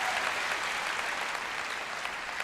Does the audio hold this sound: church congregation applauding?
yes